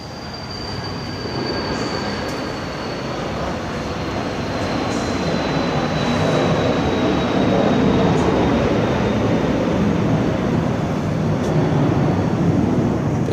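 Steady cabin noise inside a Eurocopter EC 155 helicopter in flight: a broad, even rumble and whoosh that slowly grows louder, with a faint high whine and a voice speaking quietly beneath it.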